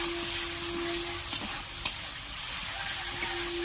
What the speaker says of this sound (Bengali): এবার মশলাটা আমি বেশ ভালোভাবে কষিয়ে নেব।